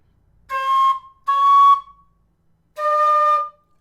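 Three clear sustained whistle notes from a low D whistle played in its second octave, two close together then a third after a short pause, loud and alone.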